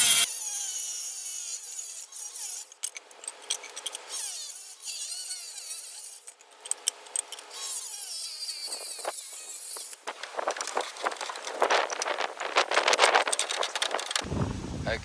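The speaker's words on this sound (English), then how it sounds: "I'm going to cut these with a diamond blade on a 5-inch angle grinder" A 5-inch angle grinder fitted with a diamond blade cuts roof tiles for a skylight install, giving loud bursts of harsh, gritty cutting noise separated by brief pauses, with the motor whine rising and falling.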